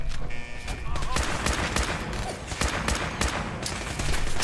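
Paladin Maxson's weapon in Fallout 4 firing a sustained barrage, loud rapid shots cracking in close succession over a busy battle backdrop.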